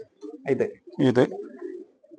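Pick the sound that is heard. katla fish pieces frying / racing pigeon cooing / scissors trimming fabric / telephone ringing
racing pigeon cooing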